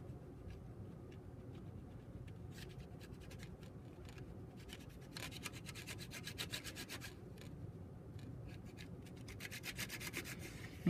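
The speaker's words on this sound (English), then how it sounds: "So I'm burnishing the metal." Metal is burnished smooth by hand in a metalsmithing job on a snowflake piece, a continuous quiet rubbing scrape with bursts of brisker strokes, steady and close throughout.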